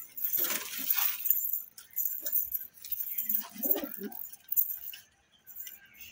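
Kolkata bloodline Madrasi pigeons give soft, low coos in short bursts, with some sharper rattling and handling noises between them, all close by.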